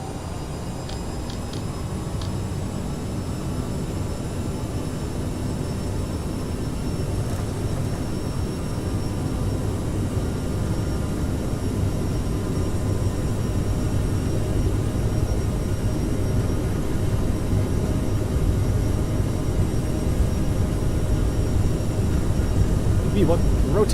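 Jet engines of an Aerosoft CRJ-700 airliner in Microsoft Flight Simulator spool up to takeoff power, a steady broadband roar that slowly builds in loudness over the whole stretch.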